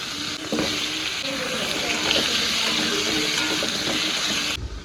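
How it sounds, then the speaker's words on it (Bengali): Potatoes frying in a wok of hot oil seasoned with turmeric and salt, a continuous close sizzle with occasional scraping stirs, ending abruptly. "এই যে আলুটা আমি ভেজে নেব।"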